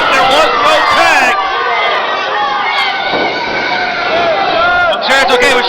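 An independent wrestling crowd yells at the referee over a disputed tag, a loud, continuous roar of overlapping shouts and babble that fills the whole stretch.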